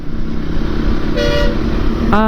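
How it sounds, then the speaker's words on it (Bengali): Two short horn honks from a Suzuki Gixxer 150 motorcycle behind a truck on a highway sound over a rumbling engine, one brief toot midway and another at the end. "হর্ন দিন লেখা আছে ওকে হর্ন দিলাম"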